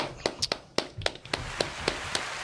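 A few people applaud with sparse, uneven hand claps, each clap a sharp separate crack spaced about a quarter second apart, fairly close and moderately loud.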